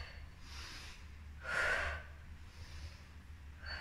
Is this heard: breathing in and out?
yes